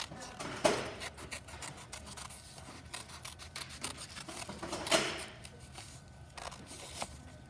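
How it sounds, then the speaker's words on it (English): Scissors snip through folded paper for a Christmas craft, a few crisp cuts with soft rustling and handling between them, close and fairly quiet. "we'll cut it out while the paper is still folded"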